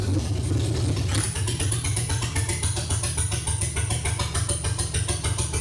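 The engine of a 1972 Chevrolet C10 truck idles with a misfire, a steady close low rumble with uneven pulsing beats and a thin high whine, running continuously without speech.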